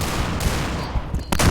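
Gunfire from a pistol in a shooter video game, several quick shots over a steady game soundscape, with a louder burst near the end.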